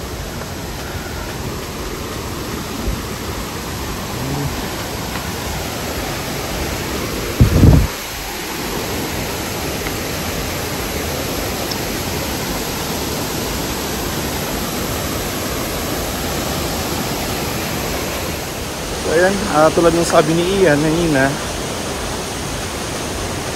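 Tigalay Falls pours in a steady, broadband rush of falling water that fills the whole scene, with a person briefly talking over the roar near the end.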